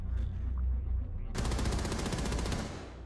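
Rapid SMG fire in Rainbow Six Siege: a quiet, low-rumbling moment, then a loud, fast automatic burst erupts partway through and rattles on steadily to the end.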